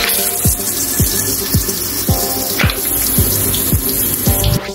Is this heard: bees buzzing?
no